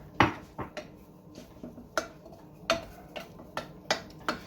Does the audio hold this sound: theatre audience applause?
no